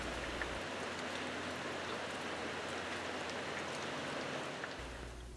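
Steady, persistent rain falls through a thick woodland canopy, an even hiss of drops on leaves that holds unbroken and fairly soft for the whole stretch, with no voices.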